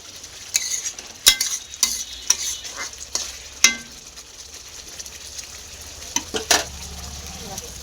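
Spice paste stir-fried in a pan ahead of adding fish, with a steady sizzle broken by repeated sharp scrapes and clacks of a spatula against the pan, close and fairly loud.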